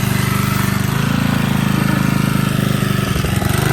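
A small, worn portable generator engine runs steadily after its carburetor was cleaned, producing a loud, close, even chugging hum with a rapid regular pulse and no talk over it.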